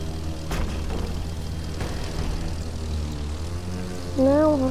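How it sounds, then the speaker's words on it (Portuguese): A propeller airplane in The Crew 2 racing game drones steadily with a buzzing engine, its pitch sliding upward near the end. "Sim, é que é um drift de avião."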